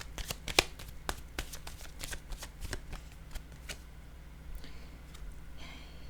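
Tarot cards being shuffled close by, with a run of crisp flicks and snaps for about four seconds, then softer shuffling rustles after it, and no talking.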